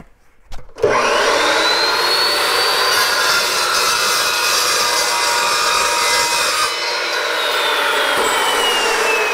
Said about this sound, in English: So let's just make a quick cut on this two inch angle iron.